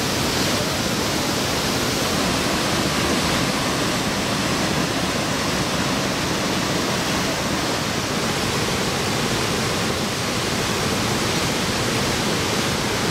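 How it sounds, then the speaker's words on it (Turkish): Muradiye Waterfall in Van pours strongly, a dense, constant roar of rushing water filling the scene without a break, loud and close. "gördüğün gibi abi şelale müthiş akıyor"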